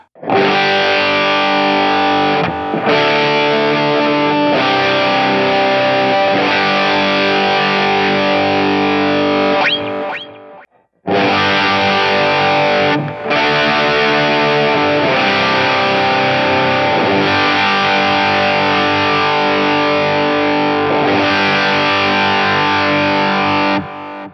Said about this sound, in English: now we're going to go to more of a crunch kind of sound